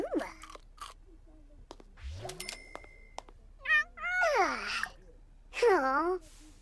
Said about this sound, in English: Aww, it's a little stray cat.